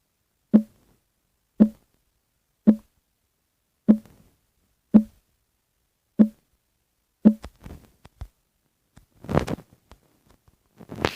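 A series of short, crisp popping clicks repeats at a steady pace as blocks are mined in Minecraft, followed by a few scattered softer rustles.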